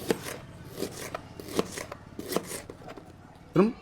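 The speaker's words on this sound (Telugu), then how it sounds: "ముందుగా మనం శుభ్రం చేసి పెట్టుకున్న ఆనియన్ని మాత్రం సన్నగా తరుక్కోవాలి" Onion being finely chopped on a board in a home kitchen while making dhaba-style paneer curry, a quick series of sharp knife taps in uneven bursts with a louder knock near the end, under faint background voice.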